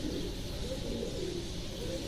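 Soft cooing from a breeder pigeon over a steady low background hum, continuous and fairly close, with no talking.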